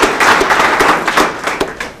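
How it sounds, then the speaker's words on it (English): Audience applause at a Moby Dick Brewery gathering: a dense, close patter of clapping that holds steady for two seconds. "join me in a round of applause"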